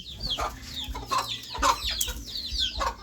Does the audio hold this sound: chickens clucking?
yes